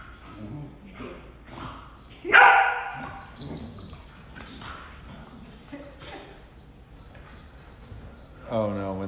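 A standard poodle puppy barks in sharp, loud single yaps spaced several seconds apart, with a person talking between the barks indoors.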